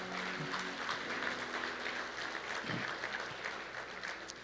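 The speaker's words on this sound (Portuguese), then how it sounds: "Você pode dar um aplauso a Ele?" A church congregation claps together in steady applause, moderately loud and even throughout, with a faint voice rising briefly near the middle.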